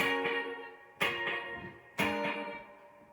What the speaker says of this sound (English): It's a delay repeating what I play.